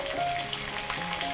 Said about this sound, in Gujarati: હવે ગેસની લો ફ્લેમ પર કાંદા ટ્રાન્સલુસન્ટ થાય ત્યાં સુધી આપણે તેને સૌતે કરી લેશું